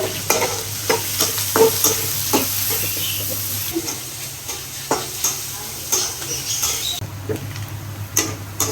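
Chopped onions fry in oil in a pan until brown, with a steady close sizzle and a continuous rhythm of scraping stirs from a spatula throughout.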